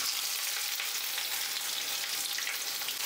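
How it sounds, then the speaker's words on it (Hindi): Thinly sliced onions fry over medium flame in hot oil with cumin, cinnamon and cardamom, giving a steady, even sizzle with a faint crackle throughout, heard close and alone. "गैस का फ्लेम मीडियम करके हम प्याज को फ्राई कर लेंगे"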